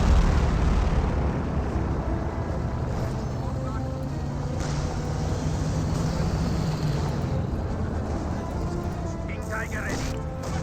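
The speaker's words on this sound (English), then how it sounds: "And the rocket run does destroy the half-track, but barely. Most of the rounds actually hit the HQ." Rocket run explosions slamming into a half-track and HQ in the strategy game Company of Heroes, a heavy, rumbling barrage of blasts blending into a continuous roar, with a commentator talking over it.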